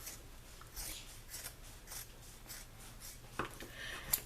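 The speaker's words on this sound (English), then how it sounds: "We're going to cut the hem off of the legs." Scissors snip through the hem of denim jeans legs in a run of quiet, crisp cuts, several rasping strokes spaced about half a second apart, close and alone.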